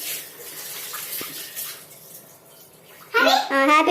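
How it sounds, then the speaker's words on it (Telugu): Water from a tap splashes and runs steadily while a plate is washed at a home sink, close by, with a voice and other voices talking over it before the flow grows louder near the end. "ప్లేట్ కడుగు ప్లేట్."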